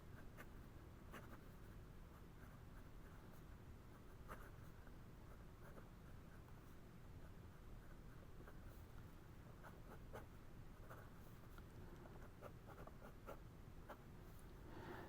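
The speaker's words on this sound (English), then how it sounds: "let's see how this pen writes" A Hongdian N2 teal acrylic fountain pen with a medium #6 steel nib writes on paper. Faint, close scratching comes in short irregular strokes with tiny ticks and pauses against quiet room noise.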